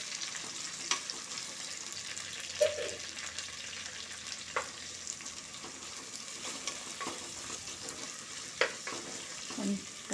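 Two large onions sizzle in a pan for mutton paya curry, a steady quiet frying hiss with occasional soft stirring clicks and scrapes, with no voices.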